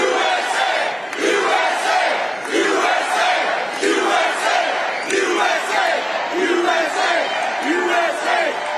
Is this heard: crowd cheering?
yes